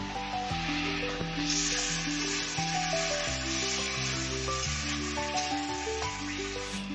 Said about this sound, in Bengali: এরপর একটু একটু জল দিয়ে নাড়তে হবে যাতে কড়ায় না লেগে যায়।